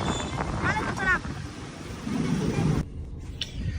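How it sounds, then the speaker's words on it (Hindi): Strong outdoor wind buffets the microphone with loud, continuous rumble for most of the moment, dropping away abruptly near the end, with a voice talking over it. "धक्का मार हवा चल रही है भाई।"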